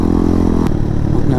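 A motorcycle on a rough trail ride, its engine running loud and close with a steady mid-pitched drone and a brief clatter partway through.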